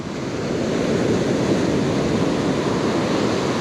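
Ocean waves break on a sandy beach during a winter fishing trip, a loud continuous roar of surf mixed with wind buffeting the microphone, with no talking.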